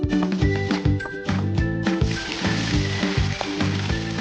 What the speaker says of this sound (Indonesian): Campur tumbukan udang dengan bumbu halusnya. Jadi deh, sekarang tinggal ditumis.